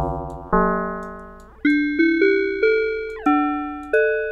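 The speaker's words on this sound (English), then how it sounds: "See, now we're starting to get some nice tubular bell sounds." Tubular bell tones from an FM synthesizer patch built in Reaktor as a wind chime, sounding alone as a sequence of about seven clear struck notes at shifting pitches, each ringing with bright overtones and decaying before the next.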